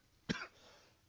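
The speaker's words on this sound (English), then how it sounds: "I'm coughing." A single sharp cough from a sports radio host in a studio, close and short, followed by a brief throaty tail and then quiet.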